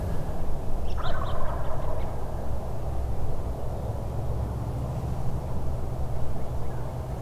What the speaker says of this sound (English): Yep, there's that gobbler right there.